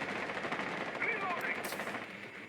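Rapid gunfire from the video game Rainbow Six Siege, heard during a competitive match broadcast, dull and fairly distant beneath steady background noise and a faint voice.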